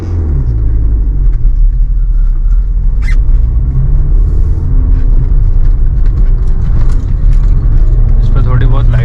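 A Maruti Suzuki Fronx Delta Plus is driven at night. A steady, loud low engine and road rumble fills the cabin throughout, with a voice murmuring over it.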